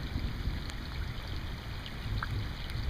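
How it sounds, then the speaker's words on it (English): Steady rain from an overhead thunderstorm hisses throughout with a low, rumbling undercurrent like distant thunder, no voices present. "Thunder and lightning now pretty good right overhead."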